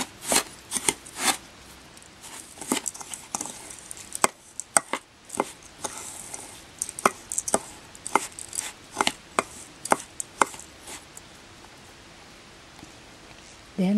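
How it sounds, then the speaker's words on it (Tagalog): Graham cracker crumbs being mixed with melted butter in a bowl, irregular soft scraping and tapping strokes of a utensil close by, with quieter gaps between stirs. "Haluin natin mabuti hanggang sa mabasa lahat ng butter itong ating graham cracker crumbs."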